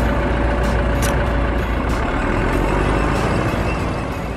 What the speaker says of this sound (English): This is a tracked excavator.